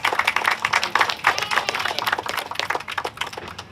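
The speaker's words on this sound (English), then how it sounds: "So give her a warm round of applause." Warm audience applause at a hip hop health summit anniversary event, a dense, steady patter of many hands clapping close by, sustained throughout.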